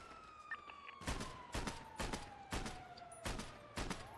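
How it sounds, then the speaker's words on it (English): Gunfire in a video game arena PvP match, a steady series of about seven loud, evenly spaced shots roughly half a second apart, with a siren-like tone sliding underneath. "What are these gun sounds?"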